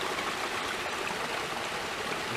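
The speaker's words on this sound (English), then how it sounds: "It's probably melt water." Meltwater stream running over rocks in the Scottish hills, a steady, full rushing and gurgling close by that fills the whole clip without pause.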